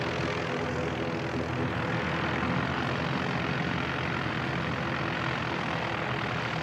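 Aircraft arriving at Christchurch Airport, New Zealand, an Air New Zealand flight in from Hamilton, gives a steady, loud broadband engine roar that holds evenly throughout with no talk.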